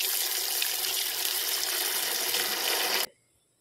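Fresh mackerel being rinsed under running water in a sink, a steady loud gushing stream for about three seconds that then cuts off abruptly to near silence.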